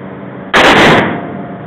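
A single loud gunshot from a Smith & Wesson .357 Magnum revolver at target shooting, a sharp blast with a short ringing tail over quiet background.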